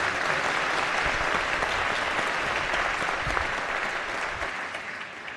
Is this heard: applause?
yes